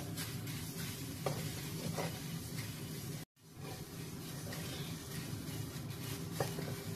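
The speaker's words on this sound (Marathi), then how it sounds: "पहिला घाणा भाजायला थोडासा वेळ लागेल, नंतर मग एकदा कढई तापली की त्यानंतर मग पोहे भराभर भाजले जातात" Thin poha dry-roasting in a hot kadhai with no oil, a soft, continuous rustle and scrape of stirring, faint and close, with one brief gap midway.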